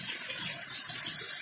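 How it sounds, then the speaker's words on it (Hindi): Heavy rain pouring outside a home kitchen during the rainy season, a steady loud broadband hiss of falling water with no talking. "बाहर बहुत तेज बारिश है"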